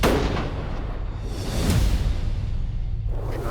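A rifle fires at a bull elk about 85 yards away during a mountain hunt; one loud, close blast with a sharp onset gives way to a long rumbling roll of echo that fills the rest of the moment, with no talking.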